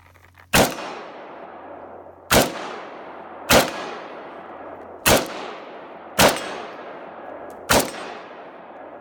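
A rifle fires six single shots to empty a magazine, each a sharp loud crack with a ringing decay, evenly spaced about a second and a half apart, with quiet between them.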